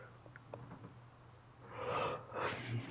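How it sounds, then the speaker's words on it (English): A person lets out a breathy yawn, a soft airy exhale swelling over about a second near the end, close and quiet, with faint sniffs and rustles before it. "Hey, I even yawn."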